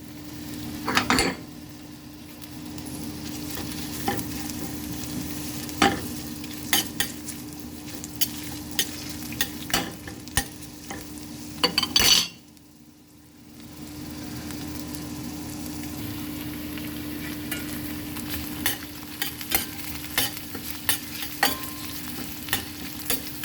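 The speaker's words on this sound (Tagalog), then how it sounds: "maglagay na tayo ng mantika. Igisa natin ang ating sibuyas." Onion sautés in cooking oil for pork lomo with black bean garlic sauce. A continuous moderate sizzle runs under frequent sharp utensil scrapes and clicks against the pan, with a brief quieter pause partway through.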